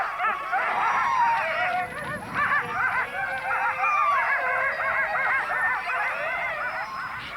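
Many sled dogs in Greenland yelp and howl excitedly together, a dense, continuous chorus of high whines and barks from close by.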